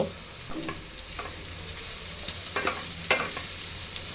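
Cauliflower sizzles in a hot pan alongside carrot, onion and green chili, a continuous frying hiss broken by intermittent scraping and stirring strokes of a utensil, close and alone.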